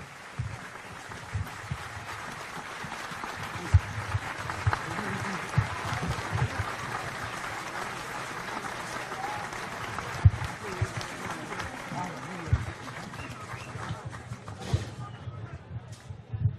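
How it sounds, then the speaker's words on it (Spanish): Sustained applause from an audience at a Venezuelan political event, honoring Andrés Velázquez, steady and dense for about fifteen seconds with occasional louder claps and a murmur of crowd noise underneath. "un fuerte aplauso para Andrés Velázquez"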